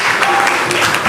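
A religious Ram Katha gathering claps in thanks for donors, producing a dense, steady wash of crowd applause across the whole moment with faint voices mixed in.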